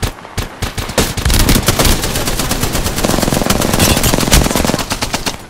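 Sustained rapid-fire gunshots from the battle-royale game Apex Legends, a loud, dense string of close automatic bursts with heavy impacts that keeps going almost without a break.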